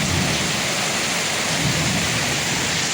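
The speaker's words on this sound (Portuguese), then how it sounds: "Tá chovendo muito." Heavy rain pours down in a dense, loud, unbroken roar for the whole stretch, with no voices.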